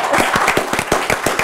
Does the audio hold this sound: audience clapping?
yes